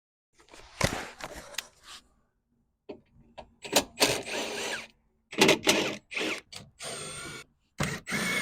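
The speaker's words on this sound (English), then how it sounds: "these two plastic rivets need to be drilled out" A power drill bores out plastic rivets on a 2014 Jeep Cherokee front bumper, several short whirring bursts separated by brief silences, close and fairly loud.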